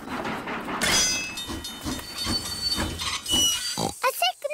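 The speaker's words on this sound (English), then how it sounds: "Clickety-clack, clickety-clack, the train runs on the track." A Peppa Pig cartoon train rattles along with hissing steam and squeaky whistle-like toots, mixed with a voice talking over the rhythmic chugging.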